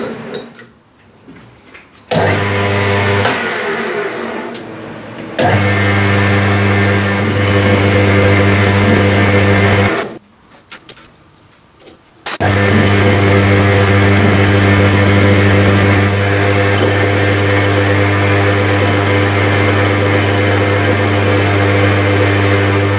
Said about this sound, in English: I can now turn them heads down in the lathe so they look like them heads.